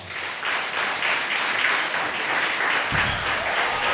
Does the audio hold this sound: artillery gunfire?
no